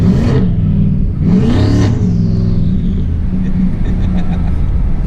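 Turbocharged Coyote-engined S197 Mustang accelerating hard from inside the cabin, two loud rising engine pulls with whooshing turbo sweeps, then a steady heavy rumble at speed.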